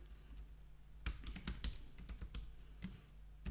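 Website address typed on a computer keyboard, a quick irregular run of light key clicks, close and quiet, with no talking.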